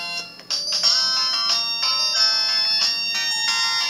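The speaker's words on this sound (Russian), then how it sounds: "Полифония здесь такая же, 40-тональная." A Samsung C100 mobile phone plays a 40-tone polyphonic ringtone, loud and close. The bright synthetic melody moves in short, rhythmic phrases, with clear notes stepping up and down and no talking.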